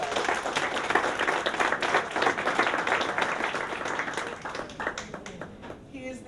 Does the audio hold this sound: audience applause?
yes